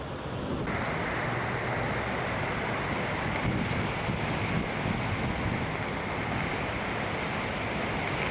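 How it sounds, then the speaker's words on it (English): High surf and strong wind at Bondi Beach in Sydney on a cold day, a steady broadband roar of breaking waves mixed with gusts buffeting the microphone, continuous and fairly loud with no voices. "Pretty big waves right now."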